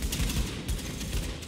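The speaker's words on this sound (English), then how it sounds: "With all that gunfire drawing the Rikers' attention, you're gonna have a nice fat bullseye on your back." Gunfire in the video game The Division, dense rapid bursts of automatic shots, loud and continuous across the short moment with no voices.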